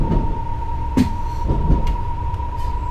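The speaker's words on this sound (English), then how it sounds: "this is obviously London Underground train, so it should stop at all the stations" A London Underground Metropolitan line train in Train Simulator 2018 rumbles along with a constant low drone and a steady whining tone, broken by a few clunks and rattles of the carriages.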